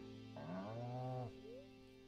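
A single cow from the Stardew Valley video game gives a soft, drawn-out moo that rises and falls, faint against a quiet, steady background.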